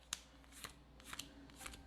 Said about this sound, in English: So we shuffle this into our deck.